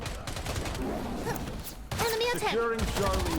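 Gunfire in the online shooter Wild Assault, dense rapid bursts of shots and impacts running throughout, loud and close, with excited talk and in-game sounds layered over the shooting.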